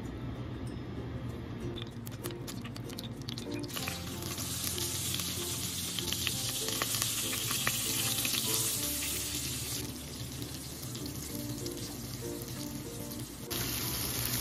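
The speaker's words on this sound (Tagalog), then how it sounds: "pwede na natin silang ilagay sa kawali, piprituhin natin" Bangus (milkfish) steaks fry in a pan on a stove, giving a steady, loud, continuous sizzle and crackle with no talking.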